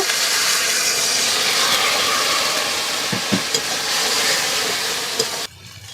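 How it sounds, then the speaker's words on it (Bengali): Spice paste for a loach fish curry fries in a pan at a Sundarban village kitchen, a steady loud sizzle and hiss with a few stirring scrapes, cut off abruptly near the end. "ভালো করে মশলাটাকে কষিয়ে নেব তো সামান্য জল দিয়ে দেব"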